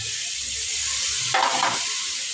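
Water is poured into a pan of vegetables cooking with boiled chana dal for a bottle gourd kootu, and a steady loud sizzle flares briefly as it hits the hot pan.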